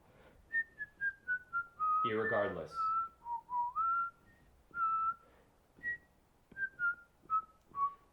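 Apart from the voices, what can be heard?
person whistling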